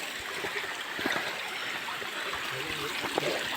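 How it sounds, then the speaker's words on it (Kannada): A hill stream flows steadily with soft trickling and gurgling water throughout, faint and continuous, with small splashes breaking through. "ನದಿ, ಹೊಳೆ, ಗುಡ್ಡದ ನೀರು"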